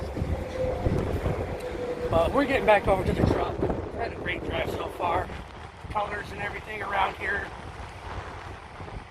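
Gusty wind buffets the microphone with low rumbling noise while someone talks outdoors in New York, the blustering continuing under his voice.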